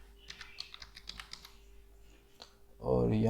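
Keys clicking on a computer keyboard in quick irregular bursts while entering code for a PHP and MySQL website, fairly quiet, before a voice starts speaking near the end.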